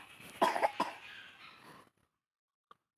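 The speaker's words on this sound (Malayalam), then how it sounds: "തന്നെ ഇങ്ങനെ ചുമക്കണ" A child coughs several times in a short, rough burst, close to the mic, followed by near silence and a faint click.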